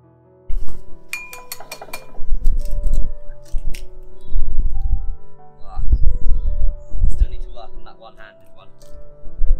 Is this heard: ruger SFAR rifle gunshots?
no